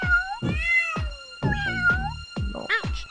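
A cat meows repeatedly in the video game Tasty Planet, several drawn-out, rising and falling meows in close succession, clear and near.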